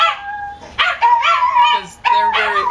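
Several dogs bark, yip and whimper excitedly close by in quick, overlapping bursts, with a short pause before another loud round of barking.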